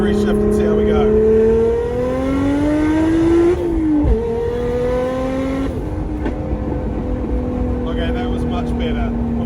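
JDM JZX street car with a 520 hp engine accelerating hard through a 2-3 gear shift, its revs climbing, dropping sharply at the change, then pulling again, loud and close inside the car.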